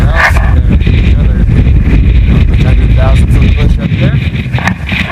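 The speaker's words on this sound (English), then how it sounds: "As you can tell, it's very windy" Strong wind blasts across a high Colorado mountain near 14,000 feet, a loud roaring rush that buffets the microphone continuously and overwhelms everything else.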